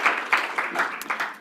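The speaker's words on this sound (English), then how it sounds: "a big round of applause to all our speakers, our experts, our contributors, to everyone who helped today" An audience applauds speakers at the close of a conference on the Assisted Decision-Making (Capacity) Act 2015, a brief patter of clapping from a modest crowd.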